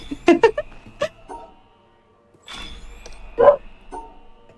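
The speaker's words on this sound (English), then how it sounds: "Even they're barking their approval." Several pet dogs bark in short bursts indoors, a quick cluster of yips and then a louder single bark after a pause, with a faint background hum.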